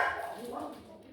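Dogs barking at a moderate distance, a short burst of yaps and whines that stays fairly steady for about a second, with a voice talking underneath.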